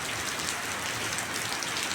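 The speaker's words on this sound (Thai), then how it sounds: "พาพี่น้องมาดูในชมบรรยากาศฝนตก" Heavy rain pours down in a dense, steady hiss of drops striking surfaces, continuous and moderately loud with no other sounds.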